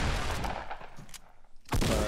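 Bursts of gunfire from Fortnite ring out, a loud rapid volley at the start that thins out, then another sharp blast near the end.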